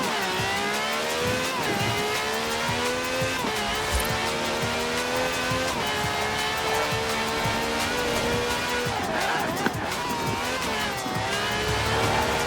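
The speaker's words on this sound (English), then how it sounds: "This has a V12 with over 750 horsepower, plus bucket seats." V12 car engine of over 750 horsepower in Forza Horizon 4, revving hard and climbing through repeated gear shifts with rising whines and tyre squeal, loud and close for the whole stretch.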